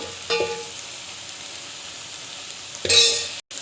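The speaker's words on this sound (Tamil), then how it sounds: "நல்லா வந்து வதக்கிட்டுக்கலாம்" Tomato thokku with chili powder sautés in a pan, a low steady sizzle broken by two short stirring scrapes of a utensil against the pan.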